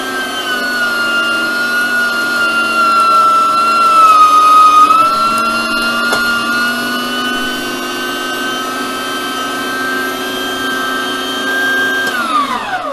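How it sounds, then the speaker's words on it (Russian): An electric meat grinder mincing meat for homemade sausage whirs steadily at close range, its motor drone holding a constant pitch, briefly straining under load before spinning down at the end. "Сейчас все пропустим через мясорубку."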